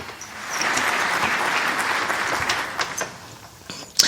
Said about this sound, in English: Stop with all the clapping.